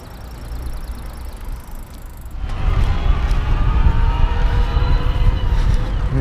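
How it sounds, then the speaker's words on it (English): An electric bike motor on a CERO One cargo bike whines at its top assisted speed of about 20 mph, rising into a steady hum under strong road and wind rumble partway through. "You can hear it whining a little bit more at that top assisted speed"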